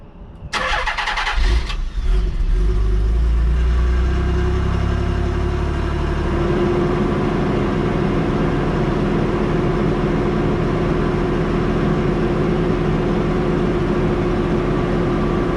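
A car engine cranks and catches on a cold, snowy day, then settles into a steady, close, rumbling idle that continues alone without talk.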